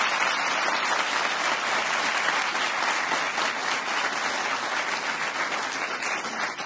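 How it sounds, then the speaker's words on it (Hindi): Steady, dense applause from a large audience at a college celebration ceremony, sustained and even throughout. "जोरदार तालियों के बीच अभिवादन स्वीकार कीजिए कुलपति महोदय"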